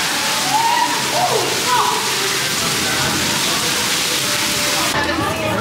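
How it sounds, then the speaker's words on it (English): Rain falls at an outdoor theme park, a dense steady patter with sloshing water, loud and continuous throughout, while people talk faintly in the background. "rain slowly calming down"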